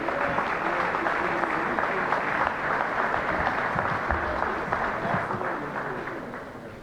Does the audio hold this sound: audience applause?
yes